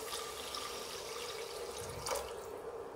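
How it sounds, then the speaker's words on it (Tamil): A glass of water poured into rice in a pot for dum biryani makes a continuous, close splashing trickle that stays steady throughout, with no voices. "அதே கப் அளவில் ஒரு கிளாஸ் தண்ணி ஊற்றுறேன்"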